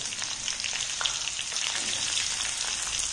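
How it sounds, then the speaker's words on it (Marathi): Stuffed bell peppers sizzle and fry in hot oil with garlic, a dense, steady crackling hiss that continues without pause. "त्यामध्ये आता मी भरलेली ढोबळी मिरची टाकत आहे आणि ती मस्त अशी परतून घ्यायची"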